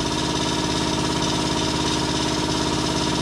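A V-piston air compressor motor runs steadily with a constant mechanical hum and a soft, even rumble, no pauses or voices.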